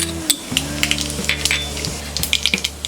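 Mustard seeds and cumin hit hot oil for a red chilli garlic chutney, giving a close, crackling sizzle with sharp pops scattered throughout over a low steady hum.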